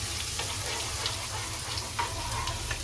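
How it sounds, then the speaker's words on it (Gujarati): Garlic paste sizzles in hot oil with popped mustard seeds for a pasta recipe, a continuous close frying hiss with faint crackles and a low hum underneath. "રાઈ આપણી ફાટી ગઈ છે, તો હવે આપણે એમાં ગાર્લિકનો પેસ્ટ નાખી દઈશું."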